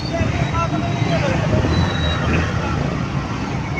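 Continuous road traffic noise during a pandesal delivery run in heavy traffic, a steady low rumble of engines and vehicles close by with faint voices mixed in.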